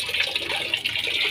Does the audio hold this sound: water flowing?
yes